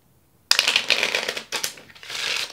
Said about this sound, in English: and then shuffle one more time.